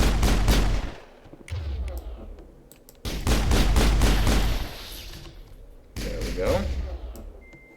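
Garrus fires a pistol in the Mass Effect game, heavy booming gunshots in repeated volleys, loud and close, with game voices heard between the bursts.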